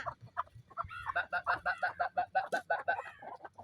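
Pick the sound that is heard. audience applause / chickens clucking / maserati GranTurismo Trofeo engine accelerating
chickens clucking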